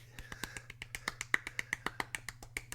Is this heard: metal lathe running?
no